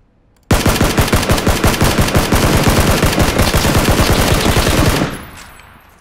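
Sustained full-auto M16 rifle fire in the battle royale game PUBG: a loud, rapid, unbroken burst of close gunshots lasting about four and a half seconds, then a short fading echo, with no talking.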